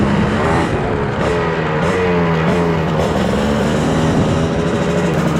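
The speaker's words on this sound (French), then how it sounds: "Cette petite mélodie du deux temps l'équipe." A two-stroke motorcycle engine idling and revving close by, its buzzy, uneven note rising and falling in short pulses over steady mechanical rumble, alone without talk.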